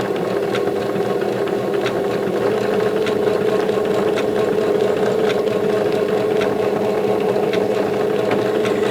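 Sewing machine running steadily while stitching appliqué onto a quilted gnome table runner, a continuous close mechanical hum with a fast regular needle rhythm and faint periodic ticks, no voices.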